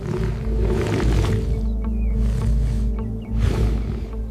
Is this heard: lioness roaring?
yes